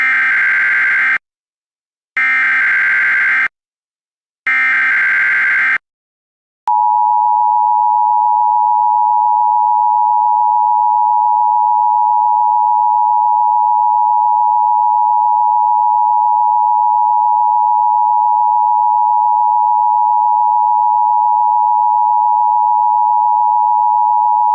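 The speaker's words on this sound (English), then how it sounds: "This is the inaugural test of the emergency alert system for the EAS Division." An emergency alert system test begins with three loud, rough electronic bursts separated by short silences, followed by a long, steady, unbroken single-pitch tone that continues to the end with no voices.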